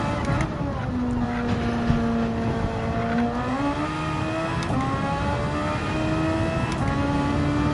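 Racing car engine in Gran Turismo 7 during an online Nations Cup race, played in VR, with repeated high revs climbing through the gears and short dips at each shift, loud and continuous.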